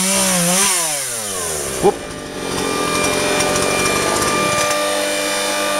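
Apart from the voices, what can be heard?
Husqvarna 236 chainsaw cutting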